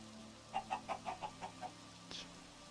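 Minecraft chickens cluck in a quick series of about seven soft, evenly spaced clucks, fairly faint against a quiet background, followed by one brighter short sound.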